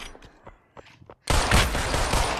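A burst of rapid gunfire from the virtual reality battle royale game Population: One, loud and sustained after a few softer thuds and clicks.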